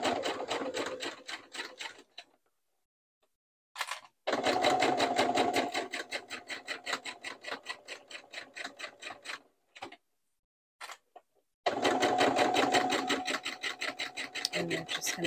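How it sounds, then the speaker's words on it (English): A home sewing machine stitches stretch knit fabric for a scarf, giving close, steady rapid needle chatter in three runs broken by short pauses and a few isolated clicks, with no talk. "sometimes I have to lift up on my presser foot until it starts pulling"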